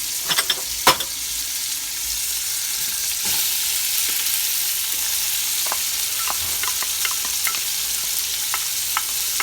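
Garlic and onions frying in a pan while being stirred, a constant bright sizzle with sharp scraping and clinking of the utensil against the pan at irregular moments, close and steady, no talking.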